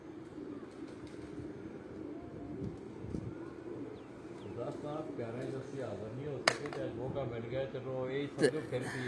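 Pigeons coo softly in the background while someone talks over them, with a few sharp clicks and flutters, as racing pigeons land on a rooftop during a pigeon-flying contest.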